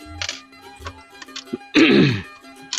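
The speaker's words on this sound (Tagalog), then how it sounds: "Medyo inuubo tayo" A person coughs and clears their throat a few times, short bursts with quiet gaps, ending in one louder harsh cough.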